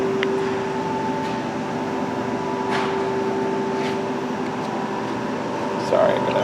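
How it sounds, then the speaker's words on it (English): A Haas TM-1 CNC tool room lathe runs its spindle with a steady, close mechanical hum and a constant tonal whine, punctuated by a few faint clicks. "we'll go ahead and fire up the spindle next"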